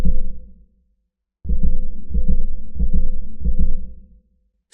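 A low, dark synthesizer note played from a wavetable as a 1Hz sample throbs in several pulsing swells after a short pause, loud and alone with no talking.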